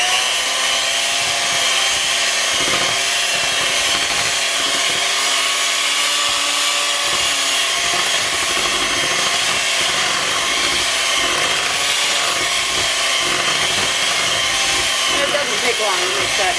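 An electric mixer runs steadily and loud throughout, blending peanut butter into a batter, its continuous whir unbroken from start to finish.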